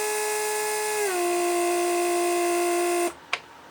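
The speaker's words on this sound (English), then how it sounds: "So right now, as you can see, the pump is energized." A Mercedes door lock vacuum pump hums steadily at close range. Its pitch drops slightly about a second in, then it cuts off abruptly, followed by a brief click.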